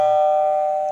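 A single bright bell ding rings out clearly and sustains steadily for about a second without fading much, used as a subscribe-button animation sound.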